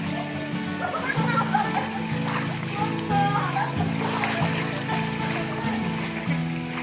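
Water splashing as people swim on a trip to Oslob, with irregular splashes and sloshing close by under constant chatter from adults and a child.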